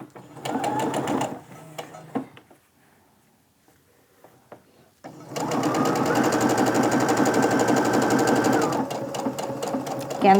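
A home sewing machine sews a quilt seam on fat-quarter patchwork: a short burst, a near-silent pause with faint handling clicks, then a longer loud, steady whirring run that slows at the end.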